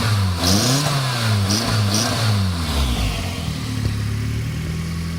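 A Mazdaspeed Miata engine with a Flyin Miata intake kit and muffler delete revs up and down several times on a cold start with a loud, raw exhaust note, then settles back to a rough, rumbling idle.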